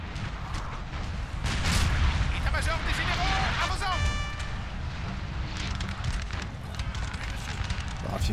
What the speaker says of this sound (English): Get ready to shoot!